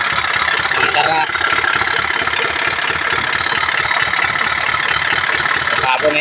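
An Isuzu 4HF1 diesel engine runs after a fuel pump replacement, a loud, steady mid-pitched idle with a rhythmic knocking pulse throughout, heard close up.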